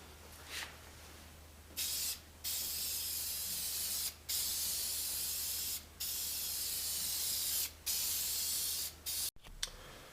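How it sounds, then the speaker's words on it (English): Aerosol rubberized undercoating sprayed onto a car rocker panel, heard as a series of loud, hissing bursts of one to two seconds each, separated by short pauses, close to the mic. "spray a nice coating, well actually 2 coatings of this all over my nice paint job I got done here"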